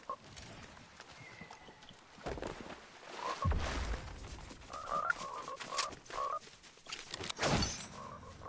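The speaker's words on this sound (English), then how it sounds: "Shut up, frog." A frog croaks in short, throaty bursts, scattered irregularly among clicks, thumps and rustling noise, fairly close and moderately loud, with no speech.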